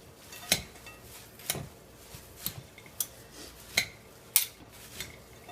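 Kale salad with cranberries being tossed in a bowl, with a handful of distinct utensil clinks and scrapes against the bowl spaced about a second apart over soft rustling leaves.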